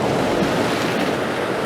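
Sea waves surge and wash up the shore at Withernsea on the English coast before high tide, a continuous close roar of surf mixed with buffeting wind.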